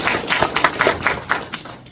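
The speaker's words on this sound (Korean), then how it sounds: "박수 한번 주시죠." Scattered hand clapping from an audience at a policy forum on an aging society: a short, uneven run of claps at moderate distance, thinning out toward the end.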